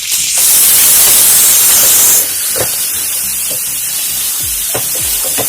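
Tomatoes hit hot oil in a pan of prawn masala, giving a loud burst of hissing sizzle that settles into a steady, softer frying crackle with occasional pops.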